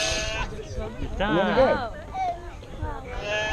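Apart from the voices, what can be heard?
sheep bleating during shearing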